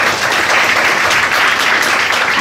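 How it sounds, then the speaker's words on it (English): An audience at a machine learning and neuroscience panel event applauds a panelist, with steady, dense clapping that fills the whole stretch at close, loud level. "Round of applause,"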